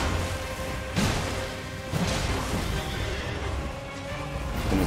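A horse neighs amid combat in the video game Elden Ring, a dense, loud game mix with a couple of sharp crashing hits, the whinny blended into continuous action noise and no talk over it.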